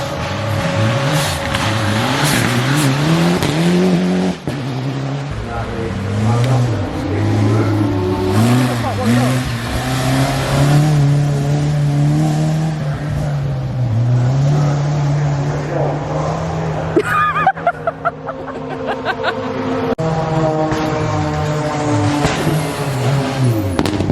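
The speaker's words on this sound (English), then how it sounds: "Again, hill climb cars, but you can't really see them. I don't think you can even hear me talking because everything's so loud." Hill climb race cars at the Goodwood Festival of Speed, loud engines roaring and shifting pitch as they accelerate past in succession, a dense continuous din with a person talking over it close by.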